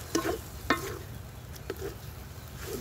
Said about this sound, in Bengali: টমেটো সস আর সয়া সস সব কিছু দিয়ে দিয়েছি ভালো করে। তো একটু ভালো করে একটু কষুক